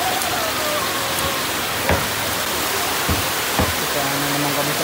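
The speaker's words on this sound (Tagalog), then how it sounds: "Basa na naman kami ng ulan." Steady rain patters across the whole stretch at a market, a dense hiss of drops with a few sharper knocks standing out.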